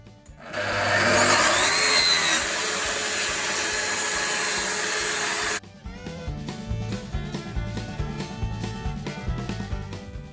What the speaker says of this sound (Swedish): Och sågar längs med panelen.